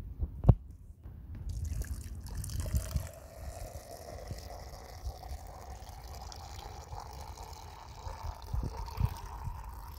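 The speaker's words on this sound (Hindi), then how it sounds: "मैं इसमें पानी डालने वाला हूँ।" Water is poured into a glass during a Holi colour-change trick, a soft low trickle and splash that runs steadily for several seconds after a brief knock at the start.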